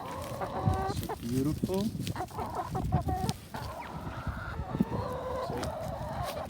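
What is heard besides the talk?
chickens clucking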